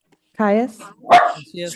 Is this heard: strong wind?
no